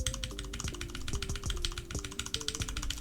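Typing on a Ducky Mecha Mini keyboard with brown switches, a quick close run of clacking keystrokes in an uneven rhythm, moderately quiet.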